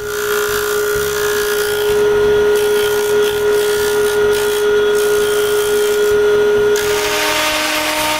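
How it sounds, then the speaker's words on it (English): A power sander works a wooden tote tray divider, a loud continuous whine with a steady hum that shifts slightly as the tool bears on the wood, alone without speech. "At the mark, I draw a circle on the divider and I sand it."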